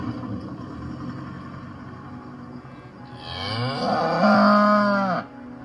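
Cows on a muddy winter grazing paddock in Southland, New Zealand, with one long, loud, drawn-out moo rising near the end, preceded by quieter low lowing and background farm noise.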